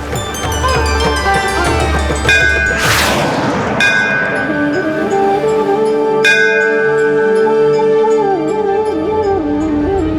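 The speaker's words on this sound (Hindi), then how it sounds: "कोई अपने देव स्थान के मार्ग से भटक जाता है तो मंदिर का घंटा अपनी ध्वनि से उसका मार्गदर्शन करता है।" A temple bell rings loudly with long sustained metallic tones, struck again several times amid a crashing impact and layered resonant music, with no talking.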